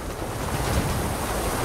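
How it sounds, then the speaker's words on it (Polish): Waterfall in Assassin's Creed Valhalla, a steady broadband rush of falling water, fairly loud and unbroken throughout, with no other sounds over it. "Wodospad."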